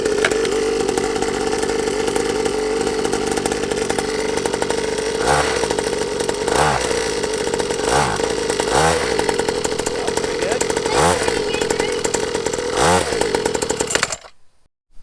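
A SYX Moto Holeshot 50cc dirt bike engine runs steadily and loudly for about fourteen seconds with a raspy, buzzing drone and small revving swells, then cuts out abruptly near the end.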